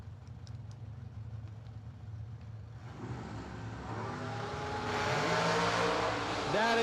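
A drag racing car launches hard with a wheelstand at a bracket race, its engine rising from a low idle into a loud, climbing roar with rapid gear-like pitch sweeps, crowd noise faint underneath.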